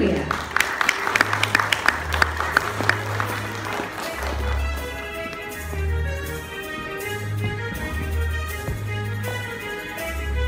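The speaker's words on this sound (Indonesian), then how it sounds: "Tepuk tangannya sekali lagi" Audience clapping at a Gentle Birth family launch event, sharp claps at first that give way to music with a pulsing beat, with voices coming through over the sound.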